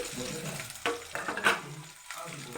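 Onion and dried red chillies fry in a pan, a steady close sizzle broken by a few scraping stirs, with no one talking.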